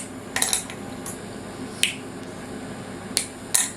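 A knife cuts chocolate bars in a kitchen, giving a few sharp, separate snaps and knocks against a board, close by and spaced unevenly over a few seconds.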